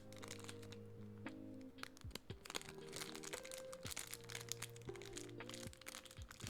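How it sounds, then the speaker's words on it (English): Plastic Haribo candy bag crinkling and crunching in irregular bursts of sharp crackles, fairly close, with a steady tonal background hum underneath and no talking. "Plastic rumbling ASMR."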